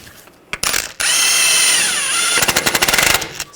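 A ratchet snugging a bolt on a 2009-2017 Volkswagen Tiguan front hub during a CV axle job: a few clicks, then a sustained whirring run ending in a rapid burst of ratchet clicks, close up.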